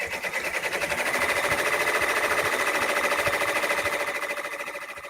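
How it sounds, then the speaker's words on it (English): Embroidery machine quilting a square design runs steadily and close for the whole stretch, a fast even stitching patter with a bright mechanical whir and regular needle ticks, no talking over it. "now I'm hitting embroider, and as you guys can see, it is now, it's gonna do like a square."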